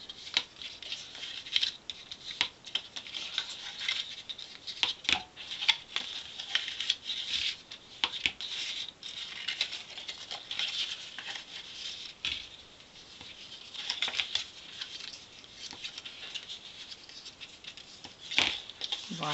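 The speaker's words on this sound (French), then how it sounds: "on va finir de marquer nos lignes des plis" A tool scores fold lines into cardboard for an octagonal box, making faint, close, irregular scratching and rubbing strokes that repeat in short bursts with small pauses throughout.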